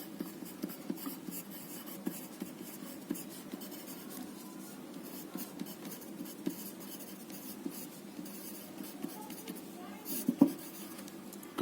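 Faint scratching strokes of writing during a maths lesson as triangle coordinates are written out, soft and close in an otherwise quiet room.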